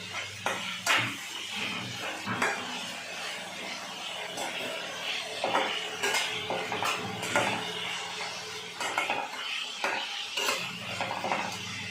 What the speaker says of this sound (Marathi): कांदा तेलात लाल शिजेपर्यंत परतवायचं।